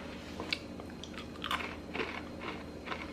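Crunchy, cinnamon-scented monk fruit snack bitten and chewed up close, several crisp crackling crunches in an uneven rhythm, alone without talk.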